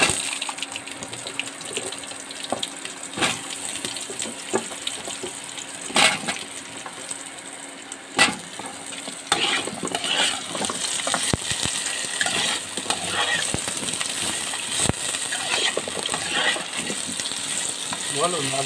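Potatoes fry in oil in a pan for a Bengali fish curry, giving a steady crackling sizzle with sharp spits and pops that come louder partway through.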